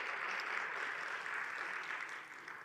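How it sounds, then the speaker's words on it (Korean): Audience applause welcoming a visiting professor at an academic lecture on Asian theology, a steady wash of clapping that fades slightly toward the end, fairly soft and distant. "우선 박수로 좀 환영 부탁드리겠습니다"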